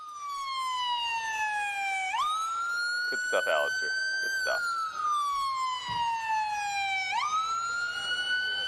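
Wailing ambulance siren during a WWE Raw wrestling broadcast, rising and falling in long sweeps at moderate loudness, with a voice speaking briefly over it.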